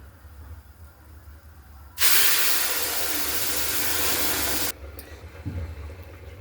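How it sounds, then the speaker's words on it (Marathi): A sudden loud hiss and bubbling rush as hot water is poured onto roasted semolina in a hot pan, lasting a few seconds before dropping back to quieter kitchen noise. "आता आपण हे पाणी लापशीच्या रव्यामध्ये टाकू"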